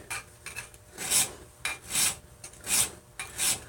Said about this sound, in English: This is what I would consider a rough filing.